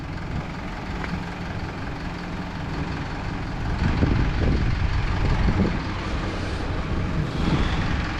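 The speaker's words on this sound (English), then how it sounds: "So I've just got Ronnie's on idle, so it's nice and slow" A lowered car's engine idles slowly and steadily up close, a low continuous rumble with a slight swell in the middle.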